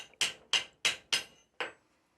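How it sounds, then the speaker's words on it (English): Blacksmith's hammer strikes a hot iron hook on an anvil while shaping a tight curl at its end: five sharp, ringing metallic blows at a steady, unhurried pace, close and clear, with no talk. "Here I'm using the anvil and my hammer to suck the heat out of that tight curl at the end of the hook."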